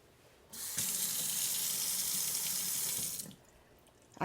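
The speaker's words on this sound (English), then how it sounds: "Let me wash my hands and I'll be back in 1 second." Water runs steadily from a sink tap for about two and a half seconds as hands are washed in a home kitchen, starting and stopping abruptly, with a faint knock at the end.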